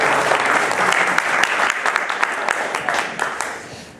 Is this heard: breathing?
no